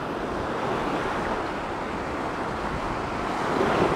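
Wind and waves at a river mouth in winter, a steady broadband wash of surf and gusting wind noise at moderate level, alone without voices.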